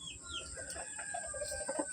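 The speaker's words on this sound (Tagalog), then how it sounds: "May nakaabang na inahin dito." A hen clucking in a gamefowl yard, a series of short, moderately close clucks with faint crowing and chirps in the background.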